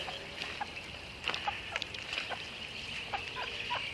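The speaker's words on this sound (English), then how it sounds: "here I am about to go on a foot race with a chicken in a suburban neighborhood" A chicken clucking in a suburban neighborhood, short scattered clucks at moderate distance over a steady high hiss of outdoor background noise.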